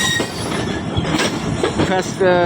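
A Karachi Express passenger train speeds past up close, loud rolling rumble and clattering wheels with a steady rush, a metallic squeal rising near the end.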